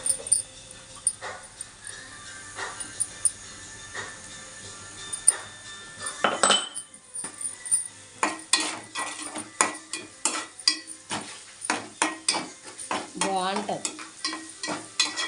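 Onions frying with curry leaves in a pan for a dondakay dish, sizzling under repeated scraping stir strokes of a spoon against the pan, close and moderately loud, with a brief spoken word.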